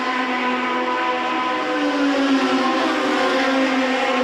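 Formula One race cars scream past at Silverstone, a loud, sustained high-pitched engine wail with steady harmonic tones that shift slightly in pitch as they pass close by, no talk over them.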